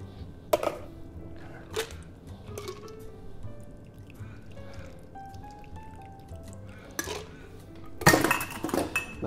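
A metal bar spoon swirls and clinks inside a cocktail shaker, making scattered close ringing taps and scrapes, with a louder jangle of metal at the end.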